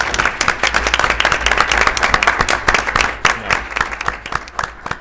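Small audience at a Stillwater city council meeting giving a round of applause, scattered individual claps forming a steady, moderately loud patter that runs the whole time and thins slightly toward the end.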